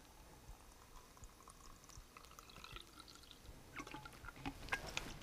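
Fuel is poured into a Volvo Penta fuel filter to prime it, making a faint, close bubbling trickle that grows into sharper liquid splashes and drips toward the end.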